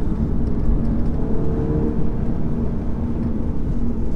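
A 2018 Audi A3 2.0L quattro accelerates hard in third gear, a steady loud engine drone with low rumble and a rising harmonic tone heard from inside the cabin.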